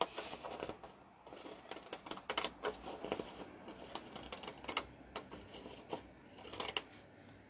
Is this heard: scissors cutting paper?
yes